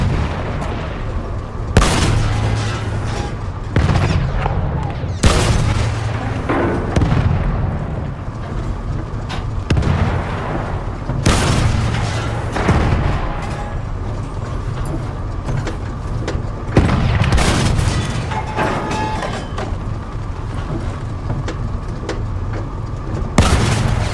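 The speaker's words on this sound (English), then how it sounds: "Our artillery." Battlefield 1 artillery fire in a tank battle: heavy booming blasts land one after another every few seconds, loud and close, over a constant rumbling din.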